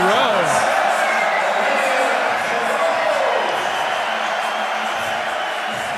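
Large crowd noise at the SLS Paris skateboarding competition during the men's knockout rounds, a steady loud roar of cheering and whoops sustained throughout, with faint voices mixed in.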